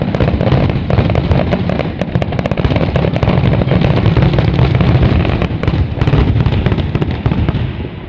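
Loud fireworks exploding in a dense, continuous barrage of crackling bursts and booms, close by and sustained throughout with no pauses.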